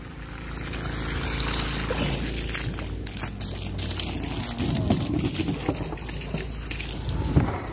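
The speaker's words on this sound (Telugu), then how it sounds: "ఇక అక్కడ జనరేటర్ చాలు చేస్తే ఇక్కడ నీళ్ళు వస్తున్నాయి." Water pumped by a generator from a desert well in Saudi Arabia pours and splashes steadily over a low engine drone, with scattered clattering bursts near the end.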